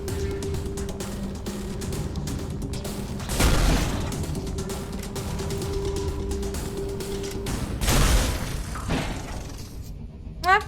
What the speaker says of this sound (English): And now we can shoot, without charging.